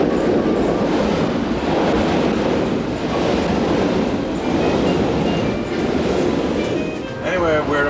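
Passenger train running steadily nearing Boulogne and the English Channel, a continuous loud rumble of wheels and carriage noise with faint clickety-clack and a brief squeal near the end, murmured voices blending in.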